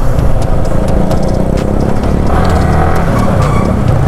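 A Yamaha R15 V3 motorcycle races along a road, its engine a loud, continuous close drone with wind noise throughout and no talking.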